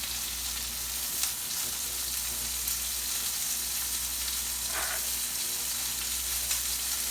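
Pan-fried gnocchi with Brussels sprouts and squash sizzling steadily in a hot pan, a constant bright hiss with a faint clink or two and no talk.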